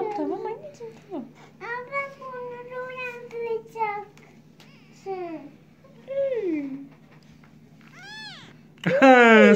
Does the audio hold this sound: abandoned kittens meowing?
yes